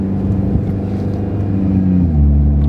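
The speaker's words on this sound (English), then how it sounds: "I'm gonna try to drive it in manual and see what it does" A 2013-or-later Ford Fusion is driven in manual mode, its engine giving a loud steady drone heard from inside the cabin, with the pitch dropping and then settling as a gear changes.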